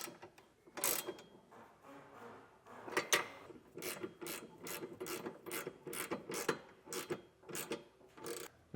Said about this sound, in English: To get this tightened down, we'll use a 19mm wrench and a 19mm socket.